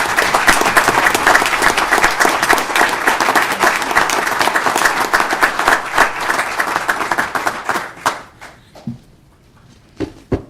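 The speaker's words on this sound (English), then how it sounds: "let's give them a big round of applause" An audience claps hard at a village board meeting, a dense, loud, steady burst of applause that fades out near the end into a few scattered claps and room noise.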